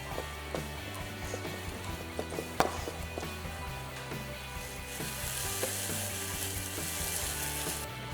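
Pears caramelize in a hot pan while being stirred for a gorgonzola and pear filled pasta dish, a steady soft sizzle broken by scattered clicks and scrapes of the utensil.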